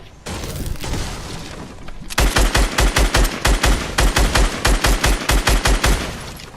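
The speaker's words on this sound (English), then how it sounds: "Then you crouch down and you just shoot." Rapid automatic gunfire in the Fortnite video game, shooting at an enemy, loud and close: a steady string of sharp, punchy shots in quick rhythm after a brief burst of noisy rumble.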